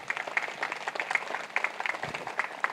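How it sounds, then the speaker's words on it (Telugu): An audience at a Raichur meditation-week gathering claps loudly and steadily, a dense continuous round of applause filling the whole moment without any talking. "మొట్టమొదటిగా మన గురువు గారైన బ్రహ్మర్షి పితామహ ఒకసారి గట్టిగా చప్పట్లు కొడదాం."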